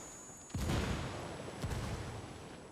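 Gunfire in the multiplayer game Ghost War during a competitive league match: two sharp shots, one early and one about a second later, each ringing briefly over a quiet, steady background.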